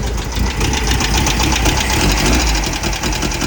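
Air-cooled Volkswagen engine running steadily with badly out-of-adjustment valves, giving a close, loud, continuous rough idle with a rapid ticking, knocking beat throughout.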